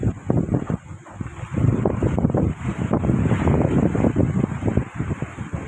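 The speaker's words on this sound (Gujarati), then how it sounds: "ફૂલ વરસાદ અને ફૂલ વાવાઝોડા સાથે" A strong windstorm with rain blows around a house, heavy gusting buffets against the microphone, rising and falling in loud rough surges.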